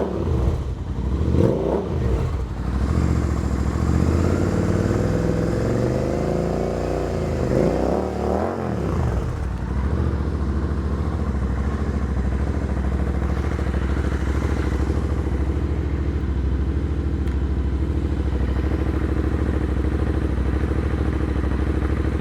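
A Royal Enfield Interceptor 650 twin idling in neutral, loud and close, revving and settling for the first ten seconds, then holding a steady, even throb.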